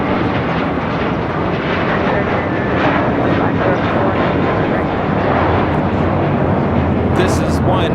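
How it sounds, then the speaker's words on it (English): A nine-year-old JetBlue Airways Airbus A321 taking off for JFK from LAX, giving a loud, steady broadband jet roar that holds for the whole stretch with no break. "taking off to JFK, JetBlue Airways 324 on a 9-year-old A321"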